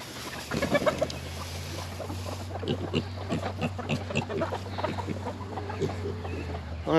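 Chickens cluck on a farm near pigs, giving a steady run of short clucks and squawks at moderate distance over a low constant hum.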